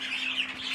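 Aviary birds in a shed squawk and call continuously at moderate loudness, a dense, steady chorus of harsh bird voices with a faint low hum beneath.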